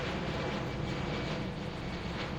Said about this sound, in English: I don't really mind the plane sound